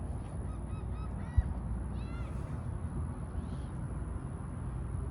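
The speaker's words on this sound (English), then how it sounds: "There's just so many birds." Several geese honk at a distance in a few short bursts over steady outdoor background noise, with one sharp knock partway through.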